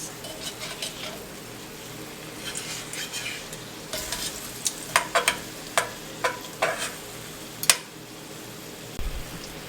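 Salmon cooks in firecracker sauce in a pan with a soft sizzle beneath scattered clinks and scrapes of a utensil moving the pieces around, close and fairly quiet.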